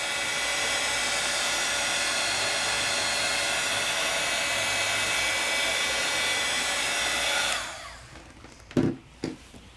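A heat tool melting embossing powder blows with a loud, steady whoosh for about seven seconds, then cuts off, leaving a couple of soft knocks and faint handling sounds.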